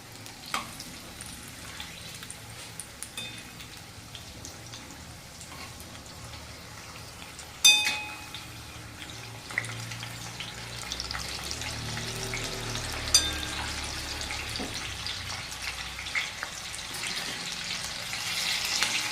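Two or three green chilies frying in hot oil left from onion bhaji, a soft continuous sizzle and bubbling that swells after a sharp clack midway, steady and fairly quiet to the end.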